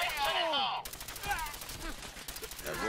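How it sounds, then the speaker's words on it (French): Submachine gun fire in the video game Fallout 4, a burst of rapid shots amid game sound effects and a sweeping tonal swell, with brief game voices in the mix. "Feu à volonté, les gars."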